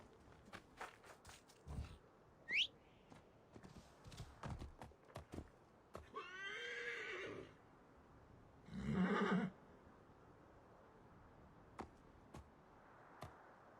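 Horse in the video game Assassin's Creed Origins, with a clear neigh and a later whinny among footsteps and clip-clop hooves, fairly quiet overall.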